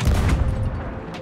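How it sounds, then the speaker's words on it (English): A cannon flare fired in the pirate video game Sea of Thieves: a loud, dense burst of booming, crackling blasts that spreads across the whole clip and then fades slightly, with no talk over it. "And shooting the cannon flare."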